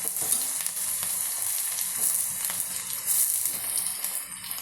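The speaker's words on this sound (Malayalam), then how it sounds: "നന്നായിട്ട് ഇളക്കി കൊടുക്കാം." Tender jackfruit curry with slit green chillies frying and being stirred in a pan: a steady, hissing sizzle with faint scraping, close and continuous without pause.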